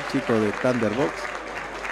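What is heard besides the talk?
audience applauding after a boxing exhibition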